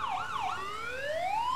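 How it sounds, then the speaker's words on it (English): Old-fashioned ambulance siren in the EmergeNYC game, a loud wailing tone that swoops down and up twice, then rises in one long steady sweep, with no one talking. "An old-fashioned ambulance going on here."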